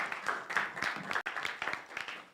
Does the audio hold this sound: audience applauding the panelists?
yes